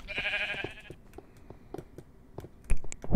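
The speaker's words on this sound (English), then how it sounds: "Oh, only sheep." Sheep bleat once in the Minecraft video game, a short nasal cry at the start, followed by faint scattered clicks and soft game sounds with a louder thump at the end.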